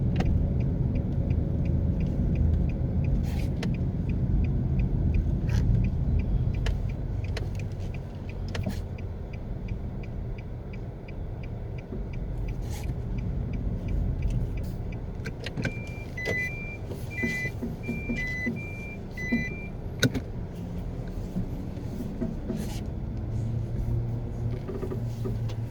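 A car drives along the newly finished lanes of Barbican Road, its low road and engine rumble steady from inside the cabin, with a few sharp clicks and faint indicator-like ticks partway through.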